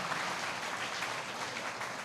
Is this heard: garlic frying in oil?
no